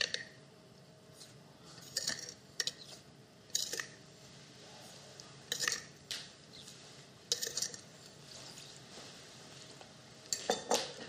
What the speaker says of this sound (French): On va battre le petit mélange pour casser les œufs